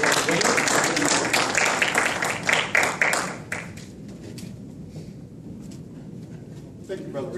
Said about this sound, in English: please give him a welcoming round of applause